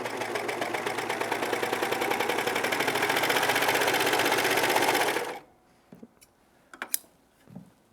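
A serger sewing machine stitches around a fabric corner in a loud, rapid, steady mechanical whir for about five seconds, then stops abruptly, leaving a few faint handling clicks and thumps.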